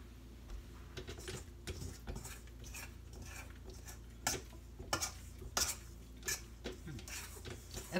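Sticky gluten-free keto bread dough made with xanthan gum being scraped from a bowl with utensils, giving a run of close, uneven scraping and clinking strokes with a few sharper knocks near the end.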